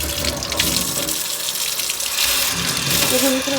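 Tap water running steadily into a sink while leafy greens are washed to remove sand, a continuous gushing splash up close.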